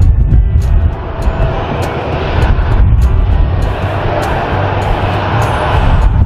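A toy airplane gives off a loud, continuous droning engine whir that holds steady throughout with no pauses.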